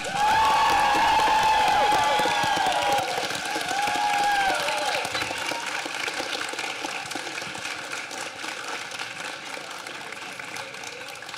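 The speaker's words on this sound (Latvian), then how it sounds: "es gribu dzirdēt vislielākos aplausus, kādus jūs varat uztaisīt šī pasākuma galvenajai organizatorai" A crowd at an awards ceremony in Jelgava applauds and cheers loudly for the event's main organiser, a schoolteacher, with whistles over the start, then dense clapping that gradually thins and fades.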